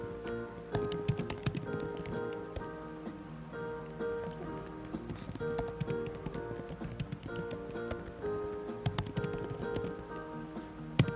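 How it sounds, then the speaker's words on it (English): Rapid clicks of typing on a computer keyboard, close and fairly quiet, patter irregularly beneath steady background music with sustained tones. "I was typing shit again"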